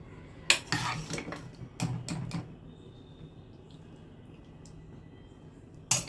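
Serving potato and soybean curry from a pan into a dish: a spoon clinks and scrapes against metal in a few short clusters, then a long quiet stretch before a final clink.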